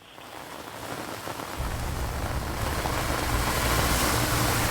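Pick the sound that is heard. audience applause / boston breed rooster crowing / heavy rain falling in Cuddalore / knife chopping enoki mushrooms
heavy rain falling in Cuddalore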